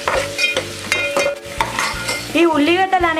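Sliced onions for sorrel chicken are stirred in a sizzling pan, a spoon scraping and clinking against the metal in repeated strokes over a steady frying hiss, with someone talking over it.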